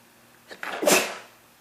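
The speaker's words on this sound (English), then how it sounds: "I'm so sorry, I sneezed." A single sharp sneeze up close, a short intake followed by a burst of breathy noise, alone in a quiet room.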